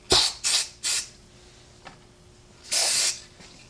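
Lubricant sprayed into a padlock in several short hissing bursts, three quick ones in a row, then a pause and one longer burst, close and fairly quiet.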